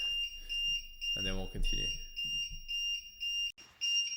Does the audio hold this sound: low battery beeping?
yes